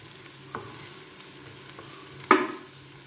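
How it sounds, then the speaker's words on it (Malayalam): Onions sautéing in sunflower oil in a pan give a low, steady sizzle with soft stirring scrapes, one louder scrape or clatter near the end, no voices. "നമ്മുടെ സവോള ഇവിടെ വഴന്ന് വന്നിട്ടുണ്ട്"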